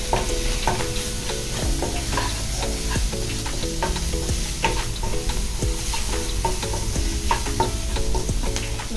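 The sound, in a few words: peas and mushrooms frying with salt, chili, turmeric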